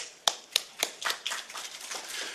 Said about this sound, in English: Let's give a big applause to Nodari.